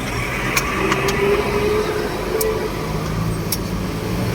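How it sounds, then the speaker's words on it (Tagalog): Heavy road traffic crawls past a bridge under construction in San Rafael, a constant low rumble of engines with a few sharp clanks and knocks cutting through. "Kaya po, ang tindi ng traffic ngayon."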